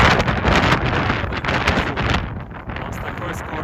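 Strong gusting wind buffets the microphone on a steep ski-touring slope, a loud continuous roar that stays dense and unbroken throughout.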